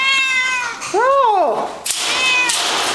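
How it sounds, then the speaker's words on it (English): A Siamese cat meows loudly up close, a long rising-and-falling yowl followed by a shorter meow, and a person makes a brief exclamation in between. "Siamese kitties do like to talk"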